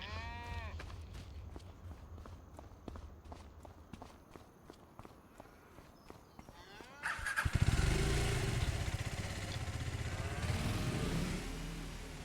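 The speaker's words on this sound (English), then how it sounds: "We'll hop on our dirt bike and take a look around the map." A dirt bike in the farming video game Farming Simulator, on the Erlengrat map: footstep-like clicks and distant sheep bleats come first, then the bike engine starts up and drones steadily for the rest.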